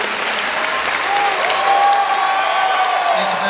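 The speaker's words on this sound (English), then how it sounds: "Let's please give a massive round of applause for all of our Japanese staff that came" A large convention crowd gives a sustained round of applause for Japanese staff at a One Piece Film Red panel in New York, dense steady clapping throughout with a little cheering.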